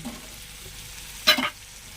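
Yogurt hits a hot pan of jackfruit curry with a short, sharp burst of sizzling, close and fairly loud, which quickly dies back to a quiet background.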